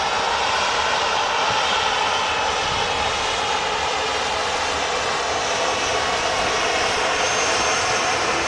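Jet engines of a KLM Boeing 737-800 at Manchester Airport roar in a steady, broad wash that holds level throughout, close and loud with no voices.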